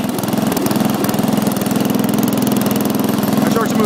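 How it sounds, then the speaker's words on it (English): A riding lawn mower tractor engine runs steadily up close, a continuous loud rumble with a fast, even throb and no break in the sound. "the tractor starts right up for me"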